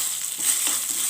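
Mustard seeds, dried red chillies and curry leaves sizzling in hot oil for a Kerala raw mango pachadi, giving a brief, bright, steady frying hiss with soft crackles, heard close and alone.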